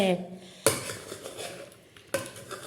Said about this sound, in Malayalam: ഇതാ വല്യമ്മ ഇതാ ചോറ് വിളമ്പോണ് മക്കളെ.